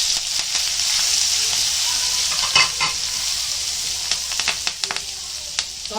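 Garlic and spices fry in a pan for baingan vada, a loud continuous sizzle with scraping and tapping of stirring growing more frequent toward the end.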